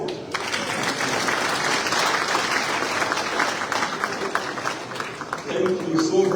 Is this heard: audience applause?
yes